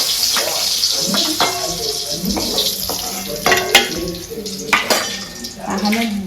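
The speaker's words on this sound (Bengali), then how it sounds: "ডিম ভাজা হয়ে গেছে, এখন আমি মিশিয়ে নিচ্ছি" A spatula stirs fried eggs in a pan in a home kitchen, with scraping and clinking metal against the pan, an intermittent sizzle and short bits of talk.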